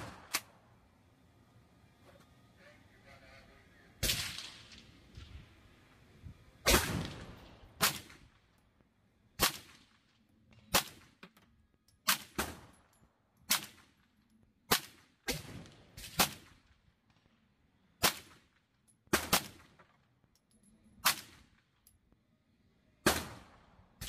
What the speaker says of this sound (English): Now you'll notice as I start shooting through here that the point of impact at 7 yards